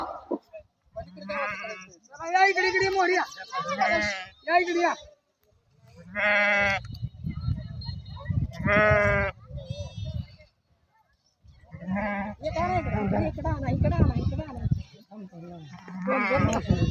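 Several sheep bleat loudly and repeatedly nearby, overlapping calls in bursts with brief quiet gaps, and people talking in the background.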